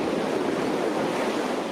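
Ocean waves and gusting wind roar steadily at Old Orchard Beach, Maine, as a hurricane passes: a dense, continuous wash of surf and wind noise with no voices.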